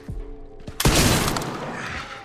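Infected soldiers open fire in the horror game Resident Evil Requiem: a few soft thuds, then a sudden loud burst of gunfire and shattering debris that rings out and slowly decays.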